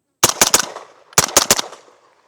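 Suppressed subsonic rounds fired from a MAT9 roller-delayed pistol-caliber carbine with an RR can: two quick bursts of three sharp, muffled shots each, close and loud, with a short pause between the groups.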